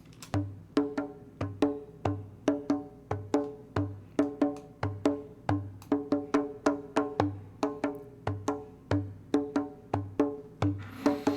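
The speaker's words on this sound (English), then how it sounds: "And then the djembe here sounds like this." A djembe plays a steady rhythm of resonant hand strikes, deep bass tones alternating with sharper slaps, played alone.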